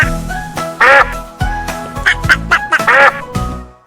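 A farm duck quacking loudly and close, several sharp nasal quacks in irregular bursts separated by short pauses, with no talking.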